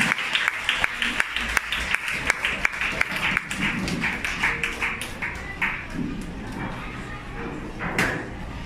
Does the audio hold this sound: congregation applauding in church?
yes